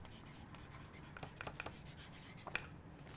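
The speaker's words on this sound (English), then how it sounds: "I'll write my name here" A pen scratches out a name in a handmade storybook, producing a few short, soft strokes close by in an otherwise quiet room.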